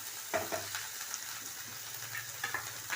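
Green chilies sauté in a pan with a soft continuous sizzle, broken by a few light scrapes and taps of a spatula stirring them.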